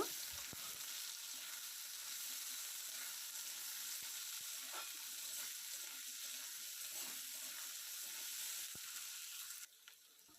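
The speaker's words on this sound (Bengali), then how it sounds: "আলুগুলো এর মধ্যে দিয়ে সামান্য ভেজে নেব" Potatoes fry in oil with chopped onion for a Bengali-style greens curry, giving a steady, close, even sizzle that continues for the whole stretch before dropping off near the end, with no talking.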